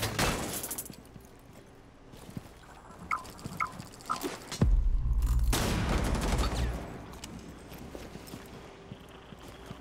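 Gunfire in the tactical shooter Rainbow Six Siege, with sharp shots early, a few scattered pops and a loud burst near the middle, then quieter game ambience.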